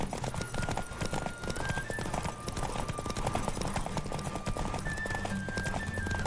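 Rapid rhythmic hoofbeats of a galloping horse in The Witcher 3, continuous and fairly close, layered over soft game music with a brief whinny-like tone.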